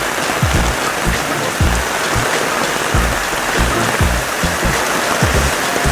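Heavy rain pours down in a loud, steady, dense roar of drops striking surfaces, with occasional low thuds of heavier drops, continuous and close throughout.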